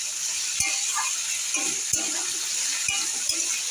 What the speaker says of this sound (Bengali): আলুগুলো একটু ভাজা ভাজা করে নেবো